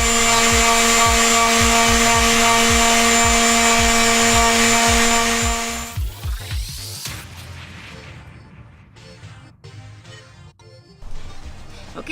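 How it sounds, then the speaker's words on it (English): A loud, steady electric sander whine on wood with a rapid rhythmic buzz runs for several seconds, then cuts off into scraping, clattering handling noises. "you get your sander and you're just gonna sand it out"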